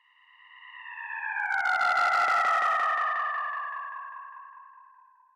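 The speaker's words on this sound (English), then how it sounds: "We can get these really nice sort of like spaceship swooshes, the passing of some sort of anti-gravity engine." A single sci-fi whoosh from a delay pedal driven by a no-input mixing board swells in and fades out, a wavering electronic tone gliding downward with a grainy, echoing burst in the middle.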